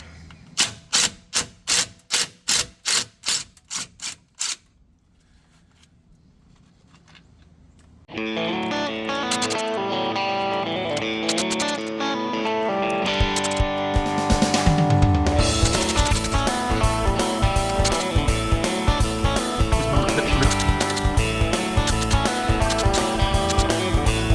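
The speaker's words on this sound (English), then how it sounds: "Now we'll switch to the power tools." A power tool, likely an impact wrench, rattles out differential cover bolts on a Chevy rear axle in a series of sharp bursts, then heavy music takes over and drowns the tool sounds.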